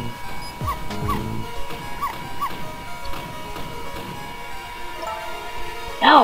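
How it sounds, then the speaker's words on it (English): Dog in the video game Ghost Trick, a series of short yipping barks in a quick irregular rhythm, each with a falling pitch, clear and fairly close over quiet game background. "No, Missile, you're not supposed to bark"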